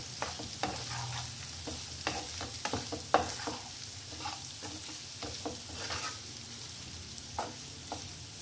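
Vegetables frying in a pan as cumin and coriander powder with turmeric are stirred in: a steady close sizzle broken by repeated scraping, clacking spoon strokes, no voices.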